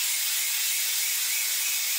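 Spray paint hissing out steadily as small red dots are sprayed onto a painting, a continuous close airy hiss with no talk.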